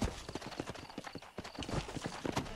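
Horse hooves clip-clop in steady rhythmic beats as a rider travels along in the Western video game Red Dead Redemption, moderately quiet and continuous.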